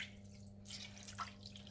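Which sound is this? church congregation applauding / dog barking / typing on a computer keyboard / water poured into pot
water poured into pot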